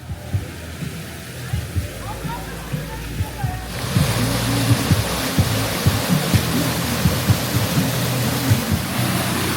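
Steady broadband rush of water at Rock Run Falls, seen from the middle falls looking upstream, growing louder and fuller partway through as the falls come closer, with faint voices beneath.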